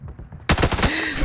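Gunfire in PUBG striking a level 2 vest, a rapid loud burst of close shots after a brief quiet lead-in, followed by a ringing tail.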